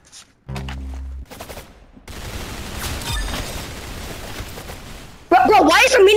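Rapid minigun fire in the Roblox-style shooter game Arsenal, dense bursts of automatic shots in stretches with pauses between, loud, with a person talking over the gunfire.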